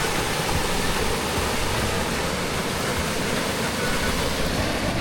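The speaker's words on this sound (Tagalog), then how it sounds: "Sarap ng tunog ng agos ng tubig" A river's flowing water at Camp Payapa in Real Quezon, a loud steady rushing hiss, close and unbroken throughout.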